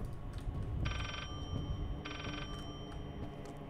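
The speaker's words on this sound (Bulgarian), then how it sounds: "Тук звънеше някакъв телефон, който го нямаше." Inside the horror game Layers of Fear, a telephone rings in two electronic bursts of about half a second each, separated by a pause, set moderately back over a low rumbling ambience.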